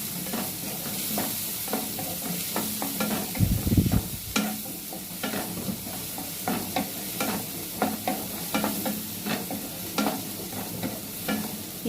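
Onions fry in a pan for paneer curry, making a continuous close sizzle broken by repeated scraping stirs and a brief louder rumble near the start, with no one talking.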